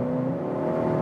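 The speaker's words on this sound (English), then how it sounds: "Interesting sound boost. I mean, this is not the engine you're hearing." A Skoda Octavia RS iV plug-in hybrid with a 1.4-litre turbo petrol engine pipes a synthetic engine note through its sound actuator, a steady droning hum heard close and unbroken, with no talking.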